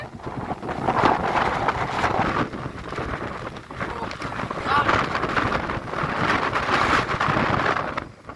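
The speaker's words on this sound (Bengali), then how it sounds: "দেখেন কি পরিমাণ বাতাস, বাতাস আমাকে ধাক্কায় ফেলাই দেয়।" Strong winter wind blows outdoors in England at dusk, a continuous roaring rush that buffets the microphone in surging gusts, loud and close throughout.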